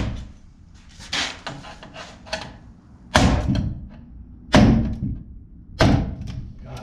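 Hammer knocking out the knockouts on an electrical panel during house wiring, several heavy metallic thuds spaced about a second apart in a quiet room, close and loud.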